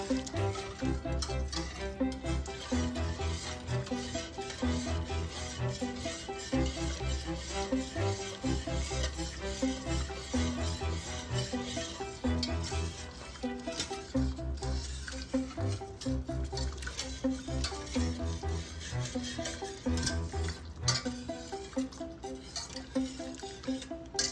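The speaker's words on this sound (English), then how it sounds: "So we're gonna whisk this together so there are no lumps from that flour." A whisk working flour into pork-chop pan gravy in a skillet, a steady, continuous swishing and scraping with a faint wet sizzle that runs unbroken and evenly loud throughout.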